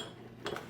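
A spoon clinks briefly against a pot while heavy whipping cream is stirred into a bacon and tasso cream sauce, two or three quick metallic taps over a quiet kitchen background.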